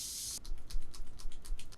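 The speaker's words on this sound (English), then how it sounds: "Setting spray." Setting spray misted over a freshly made-up face, a short steady hiss of fine aerosol up close followed by a rapid series of soft, clicky spritzes.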